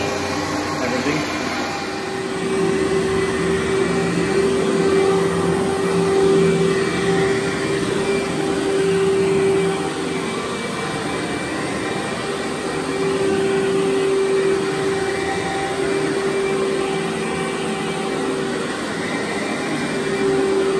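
A steady vacuum cleaner drone on carpet with a constant whine runs throughout, its pitch dipping and rising slightly as it moves.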